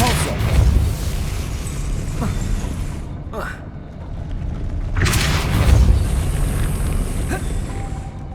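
A Depulso spell is cast in Hogwarts Legacy, giving a few deep booming bursts with whooshing impacts over ambient game sound.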